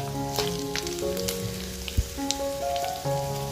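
Dried fish sizzling and crackling in hot oil in a pan while being gently stirred, with a steady close frying hiss and occasional soft clinks, and no talking.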